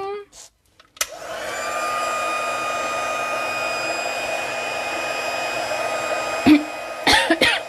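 A heat gun warms embossing powder at a crafting table, a steady close whooshing blower hum lasting several seconds, preceded by a click and broken near the end by a cough and brief movement noises.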